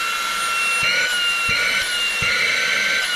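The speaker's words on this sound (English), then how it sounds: "if you hit the trigger again, you'll hear that blower kick up a little bit" A handheld blower kicks up to a higher speed, whining steadily at a high pitch, a loud continuous motor drone with faint clicks underneath, close by.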